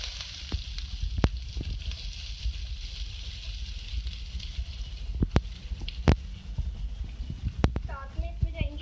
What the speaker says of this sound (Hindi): पैन में मैंने ऑयल ऐड किया है और इसके अंदर मैं ऐड करूँगी प्याज